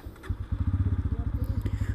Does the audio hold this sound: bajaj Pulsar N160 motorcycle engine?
yes